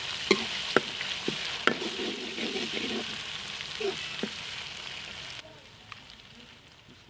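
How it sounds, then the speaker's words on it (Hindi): Chopped onion frying in hot oil with ginger-garlic paste for a chicken leg-piece curry, a soft steady sizzle with occasional clicks of stirring, fairly faint and close, quieting toward the end. "प्याज हमारा भुन लिया, कलर चेंज होगा, इसमें हम डाल देंगे अदरक और लहसुन का पेस्ट"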